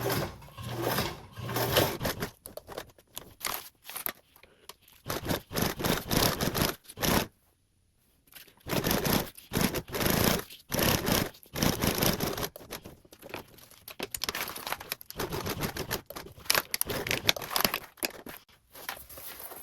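A sewing machine stitches a tote bag lining seam with an eighth-inch allowance, running in repeated bursts of rapid close whirring, stopping and restarting, with one clear pause midway and light handling of fabric between runs.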